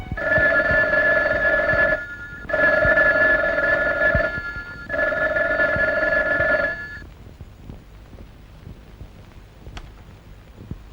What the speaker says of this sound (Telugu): ఫోన్ మోగుతుంది, రెస్పాన్స్ లేదు